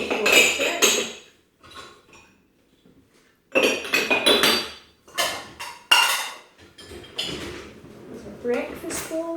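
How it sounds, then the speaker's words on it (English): Dishes coming out of a dishwasher and being put away in a home kitchen: bursts of clinking crockery and rattling cutlery in several separate clusters, fairly close, with quiet pauses between and a voice talking at times. "you can even see me putting away my dishes. I'm moving the dishwasher."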